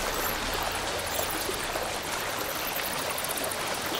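Water sloshing and rushing as a character swims in the first-person cave horror game Cassiculus, a dense, continuous, fairly loud wash of splashing with no speech.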